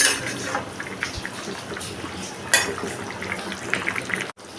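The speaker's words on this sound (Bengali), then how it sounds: "ডিম আলুটা ভালো করে ফুটছে।" An egg and potato curry with fried eggs, Bengali style, simmers in a pot, giving a steady bubbling and soft sputtering with a few sharper pops, close and moderately loud, with no talking.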